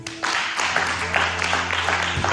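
Steady broadband applause from a church congregation, sustained and fairly loud for the whole stretch, with a low sustained tone running underneath.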